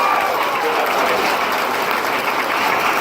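An audience at the 2017 Portage County Fair applauds the junior swine showmanship champion, steady close clapping that fills the whole stretch at even loudness with faint crowd noise beneath.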